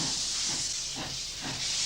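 A steam locomotive on an Australian railway releases a steady, loud hiss of escaping steam, continuous for the whole stretch, with faint low pulses beneath it and no talking.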